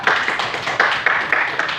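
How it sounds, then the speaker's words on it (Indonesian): Students in a classroom clap their hands in a quick, rhythmic burst of short sharp claps, close and fairly loud, with no talk over it. "Oke, tepuk tangan."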